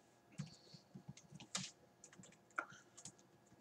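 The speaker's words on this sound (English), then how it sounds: "As soon as she's done typing." Someone types on a computer keyboard during a live coin auction, irregular clusters of crisp key clicks with brief pauses, close and fairly quiet, with no talk.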